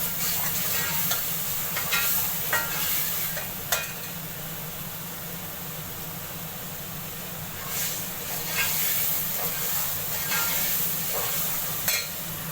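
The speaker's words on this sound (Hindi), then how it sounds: "अब हम इस मसाले की अच्छी तरह से भुनाई कर लेंगे" Spiced masala of turmeric and salt roasts in oil for kadhi pakora, a steady close sizzle running throughout, with occasional scrapes and taps of a spoon as it is stirred.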